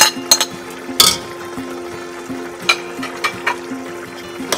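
Pepper, cooked tomatoes, chili and chopped habanero sizzle in a pan, with a steady frying crackle under repeated sharp stirring clinks and scrapes of a utensil.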